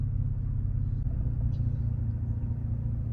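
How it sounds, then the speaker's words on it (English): A lowered Infiniti G35 with a manual gearbox pulls away slowly, its engine a steady low rumble heard from inside the cabin without voices. "start letting go slowly till the car starts moving."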